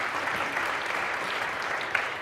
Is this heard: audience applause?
yes